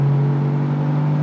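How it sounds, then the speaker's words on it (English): A Porsche 959 pulls hard as its second turbo comes in, giving a loud, steady, droning engine note with a strong low hum from inside the car and no speech. "When that second turbo kicks in, this thing absolutely shifts."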